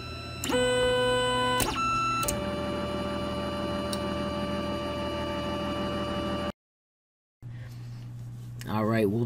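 An Anet ET4 3D printer at work gives close, whining stepper-motor tones that shift pitch in steps, then drops to a brief silence before the whirring resumes.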